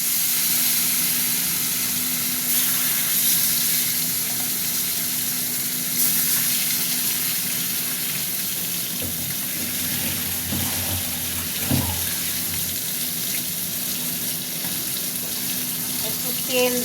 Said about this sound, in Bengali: আর 3 টুকরো আছে, ভেজে নিই।